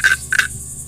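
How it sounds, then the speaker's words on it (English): A small handmade cricket scraper, a percussion instrument, is scraped twice in quick succession, giving bright chirping rasps that sound like an insect call. The rasps are close and clear over faint background noise. "I do rattles and the little cricket scraper things."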